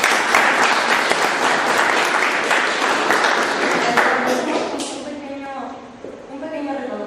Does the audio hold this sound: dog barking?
no